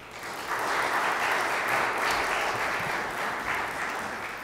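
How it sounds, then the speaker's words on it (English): Steady applause from a crowd, dense and continuous for several seconds, building slightly after the start and holding strong. "get some round of applause, snaps and claps"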